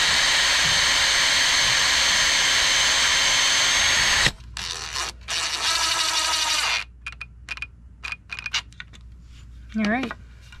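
A power drill drives small 1¼-inch screws through a window's nailing fin, a loud continuous whir first, then several short bursts of drilling and ratcheting with pauses between, near and clear.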